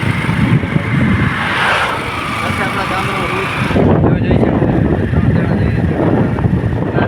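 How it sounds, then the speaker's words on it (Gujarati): A motorbike rides out past the edge of a village, its engine rumble and wind buffeting steady throughout, with someone talking over the ride. "આપણે બાઇક ચાલુ કરીને આગળ ગામમાં જઈને મળીએ"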